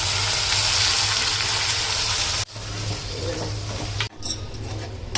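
Mutton drops into a kadai of frying onions and curry leaves, a loud, close, steady sizzle broken by two abrupt cuts as the pan is stirred and jostled, with faint metallic clinks.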